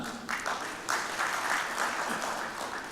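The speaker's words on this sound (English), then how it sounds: "Round of applause for both the gentlemen." An audience at a corporate awards ceremony applauds two honourees, with steady, moderately loud applause from a sizeable crowd in a hall.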